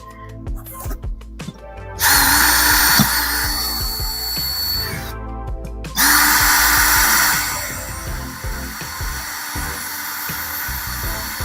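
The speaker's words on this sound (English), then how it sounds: "So I got the small drill bit now." A power drill spins up with a small drill bit during a wall-mounting job, two loud whirring bursts separated by brief pauses, with clicks and handling noises in between.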